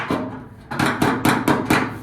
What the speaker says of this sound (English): Let me go grab the hammer. Maybe I can beat this up a little bit.